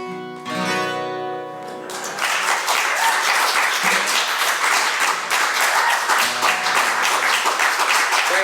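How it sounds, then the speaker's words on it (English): Audience applause rises at a live show at Marvin's Place as a song ends. A sustained, dense wash of clapping follows the final held note and stays loud and steady. "That's a little too much applaud for that song"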